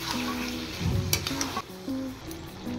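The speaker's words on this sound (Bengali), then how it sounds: "আদা আর রসুন পেস্ট দিয়ে এবার কষাবো।" Meat fries with ginger garlic paste in a pan, giving a steady, close sizzle with scraping and stirring clatter partway through and no voices.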